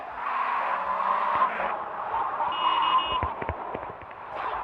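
Tires skid as a car floors it in GTA Vice City, a sustained squealing screech with engine roar over several seconds, loud and near, followed by a few sharp knocks.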